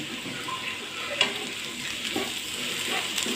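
Sliced onions fry in a pan for a raw plantain cutlet, giving a steady low sizzle with occasional stirring scrapes and a sharp clink, close by and with no talk.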